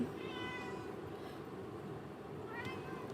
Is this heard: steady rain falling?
no